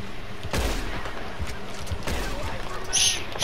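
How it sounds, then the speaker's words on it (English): Two loud, sharp bursts of gunfire aimed at a horse in the Red Dead Redemption video game ring out about a second and a half apart over steady game background noise. "Could I shoot his horse?"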